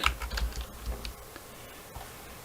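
Fingers tap out a short burst of clicky keystrokes on a computer keyboard, close and quick, then ease off into a few scattered presses.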